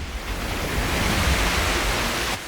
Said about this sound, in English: a frightening amount of water gushed out all at once, making the fountain look like it was an erupting geyser or open dam